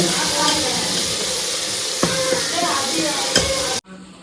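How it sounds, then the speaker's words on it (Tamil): Tomato and onion sautéing in a hot pan for a fish curry, a steady loud sizzle with scraping stirs of a spoon throughout, cutting off abruptly near the end. "தக்காளி வெங்காயத்தை போட்டு நல்லா வதக்கிக்கலாம்"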